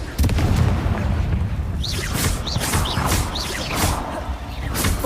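A Bombarda spell bursts in Hogwarts Legacy with a loud, booming impact, followed by rumbling blasts and repeated sharp magical zings against the game's low background score.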